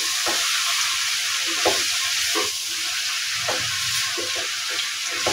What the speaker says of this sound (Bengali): ধনিয়া পাতাটা দিয়ে আমি ভালোভাবে আরেকবার নেড়ে দিচ্ছি